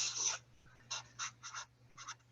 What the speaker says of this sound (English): I'll just write here.